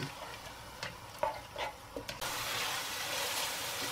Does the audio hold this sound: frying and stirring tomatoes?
yes